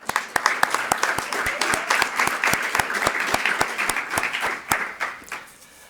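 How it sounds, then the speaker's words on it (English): At an NCMC athletics banquet, an audience claps in a lively round of applause, with sharp individual claps close by standing out over the crowd's clapping before it tapers off. "Give yourselves a round of applause for a wonderful first year."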